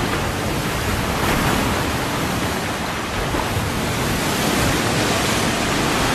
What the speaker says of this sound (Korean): 날마다 션을 덮치는 파도